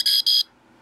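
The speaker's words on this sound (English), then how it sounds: "And that's the alarm." A DIY alarm clock kit sounds its alarm as two quick, loud, shrill electronic beeps in a row, then falls silent.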